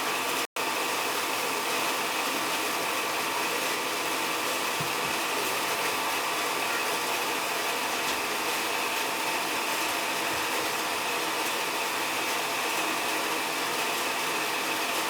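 A Tjernlund power venter motor on an oil boiler runs with a steady, loud whirring hum, constant throughout with no variation after a brief dropout at the start.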